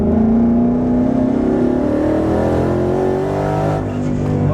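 A twin-turbo 2019 Hellhorse Performance Mustang with over 800 wheel horsepower pulls hard in fourth gear. Its engine note climbs steadily in a loud, continuous roar heard from inside the car, with no talking.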